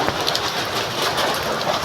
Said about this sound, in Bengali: এত শিলাবৃষ্টি হচ্ছে বাইরে